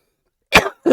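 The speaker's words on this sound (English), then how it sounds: "Funny, I coughed after I said death." A single sharp cough bursts out close by after a pause of silence, and a second cough begins just as the clip ends.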